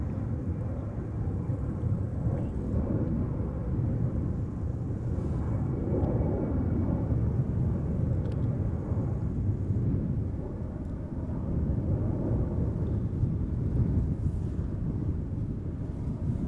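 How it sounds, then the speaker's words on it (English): An Airbus A380 airliner, an older example, arrives at Amsterdam Schiphol. Its engines make a steady, broad low roar that holds for the whole stretch, some distance away, with wind buffeting the microphone. "one of their older A380s coming in today"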